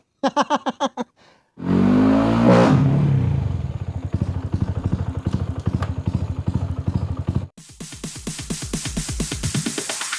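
A motorcycle with a converted clutch slips into gear with a clunk, then pulls away with a loud, steady engine roar that rises and holds under rattling, before cutting off into brief ticking sounds.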